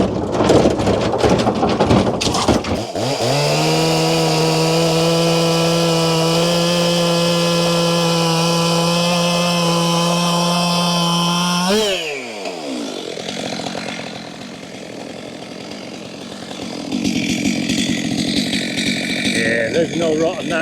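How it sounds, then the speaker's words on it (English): A chainsaw starts up and runs at a loud, steady high-pitched whine while cutting through logs from a woodpile, then drops back to a rough idle before revving again. "let's go have a bit of chainsaw action."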